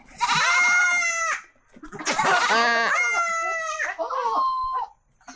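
A goat at a zoo in Kemaman, Terengganu bleats loudly and close up in three long, wavering calls separated by short pauses.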